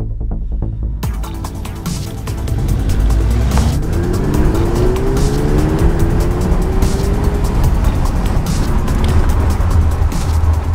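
A car fitted with Eibach springs accelerates hard, its engine note rising in a steady throbbing roar after a brief quieter start, loud and close, with a faint tire squeal riding over the engine.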